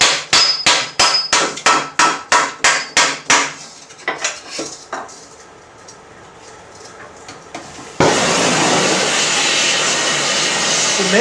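A dozen sharp, ringing hammer blows on steel armor plate in quick rhythm while raising a sallet helmet, then a pause with faint clatter, followed by a loud steady rushing hiss.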